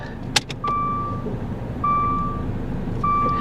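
Three repeated electronic reversing beeps from a used car shifted into reverse at an auto auction, each a steady tone with a gap between, heard close over a low engine idle.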